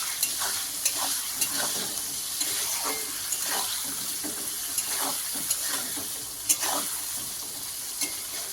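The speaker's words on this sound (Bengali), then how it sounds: "আর দিয়ে দেবো কেটে রাখা পেঁয়াজ পেঁয়াজগুলোকে লাল লাল করে ভেজে নেওয়া" Chopped onions frying in hot oil with bay leaf in a pan give a steady, close sizzle, with regular scraping stirs knocking against the pan throughout.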